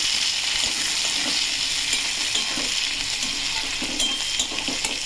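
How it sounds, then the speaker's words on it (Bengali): Long-cut potato strips fry in oil with onion and garlic for a prawn and fish curry, a steady close sizzle with occasional stirring scrapes throughout, and no one speaking. "এরই মধ্যে আমি একটাই আলু লম্বা লম্বা করে কেটে দিয়েছি। পেঁয়াজ রসুনের সাথে ওটাও একটু ভেজে নেব।"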